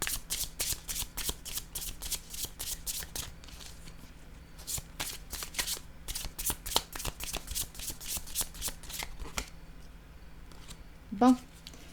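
Fluorescent yellow tarot cards are shuffled in a rapid, steady riffling rhythm, close and crisp, through most of the stretch. Toward the end the shuffling thins out before a brief louder knock.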